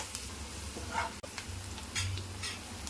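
Onions with mustard seeds and turmeric frying in a pan; a faint, steady sizzle with a couple of soft stirring scrapes and one brief knock, no voices.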